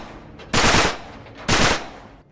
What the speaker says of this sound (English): Shoot the lock.